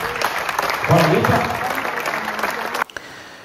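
Applause for a table tennis player at the Stone Racket Istria 2025 tournament, steady crowd clapping throughout, briefly swelling near the one-second mark, then cut off abruptly and followed by quieter room tone.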